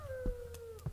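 A coyote howl in the horror video game Demonologist, set in a Russian hospital, rises as one long, thin, slowly falling wail that sounds distant, with a few faint thumps behind it.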